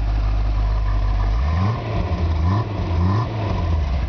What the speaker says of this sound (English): Alright, let's hear that engine.